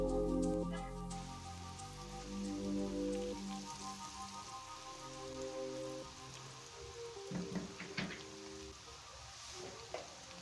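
Potato fries frying in hot cooking oil in a wok, a steady dense sizzle and crackle with occasional brief clinks, close, without talking.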